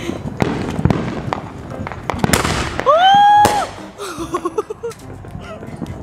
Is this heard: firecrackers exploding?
yes